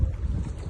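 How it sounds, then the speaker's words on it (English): A strong wind blows across a lake at a fishing peg in France. It comes as a close, loud, gusty roar with low rumbling buffets against the microphone and no voices. "That wind is proper hacking in."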